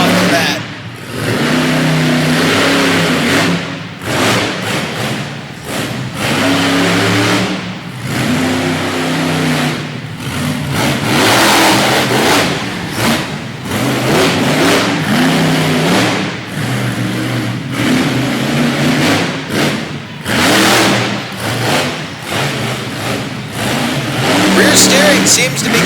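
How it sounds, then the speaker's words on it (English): Iron Warrior monster truck engine revving hard and aggressively through a freestyle run at an evening show in Topsfield, Massachusetts, loud and sustained with a crowd roaring and an announcer talking over it. "And Matt Cody will fire up the Iron Warrior and bring it out for the 3rd freestyle of the evening."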